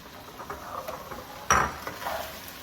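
Beef and onion stir fry with broccoli, splashed with rice wine, is stirred in a hot pan: soft scraping and light clinks over a low sizzle, with one sharp, loud clank of utensil on pan midway through.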